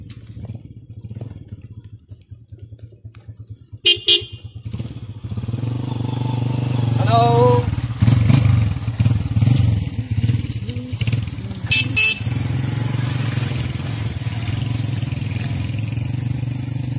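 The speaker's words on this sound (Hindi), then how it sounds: "बाइक इधर ही खड़ी कर देते हैं ना" A motorcycle engine runs steadily as the bike is pulled up and parked on a village route, with brief sharp horn-like blasts from passing traffic cutting in twice over the continuous rumble.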